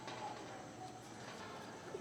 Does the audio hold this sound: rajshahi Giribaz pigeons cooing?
yes